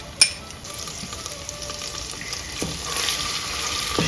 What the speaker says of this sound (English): she's going to saute the onion